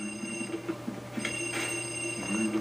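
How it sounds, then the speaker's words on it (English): A telephone rings in the Luigi's Mansion video game, with repeated bright electronic trills over a steady ambient game hum, moderately loud and with no talk. "Another phone ring."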